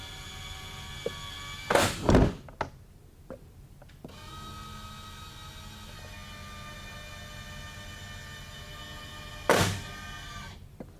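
A large circuit breaker at a water and wastewater facility is closed remotely by two linear actuators, giving two sharp loud mechanical clunks several seconds apart with a soft motor hum between them, close and with no talk.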